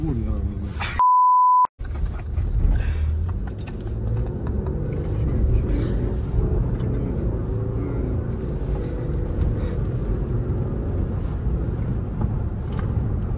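A Toyota Land Cruiser LC300 speeding across sand, heard from inside the cabin as a steady, heavy low rumble of engine and tyres. A short electronic beep sounds near the start, and voices talk over the drive.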